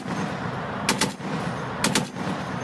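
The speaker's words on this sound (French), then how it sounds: "It's a machine gun." A Mk46 Mod 0 machine gun fires two short, sharp bursts about a second apart, each a quick rapid-fire crackle standing out over steady background noise.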